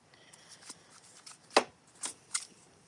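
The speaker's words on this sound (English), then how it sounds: "So just don't be afraid to grab your seam ripper." A seam ripper snips stitches on a fabric patch, giving a few sharp, close clicks and cuts over a quiet background, with the strongest snip near the middle and two lighter ones after.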